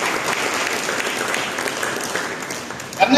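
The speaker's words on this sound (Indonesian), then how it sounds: "Mari kita berikan tepuk tangan bagi Dia." Church congregation applauding during a sermon, a full, steady round of clapping that thins slightly near the end, with a brief ringing tone at the close.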